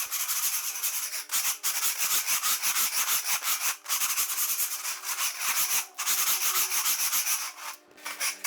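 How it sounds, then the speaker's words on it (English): A hand scraper rasps repeatedly across a garage floor coated with polyaspartic and epoxy, knocking off loose decorative flake. The strokes are loud, close and rhythmic, with short gaps between them and no voices. "So you take this scraper and scrape the whole entire floor"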